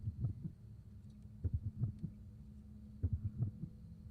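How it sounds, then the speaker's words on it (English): Scrap Trap in Five Nights at Freddy's emits a droning heartbeat: three clusters of deep, muffled thumping pulses spaced about every one and a half seconds over a low constant hum, quiet and without voices. "Scrap Trap has a droning heartbeat."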